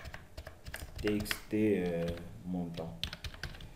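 Computer keyboard clicks while entering text in an Excel VBA data-entry form, a scatter of light taps heard beneath someone speaking French.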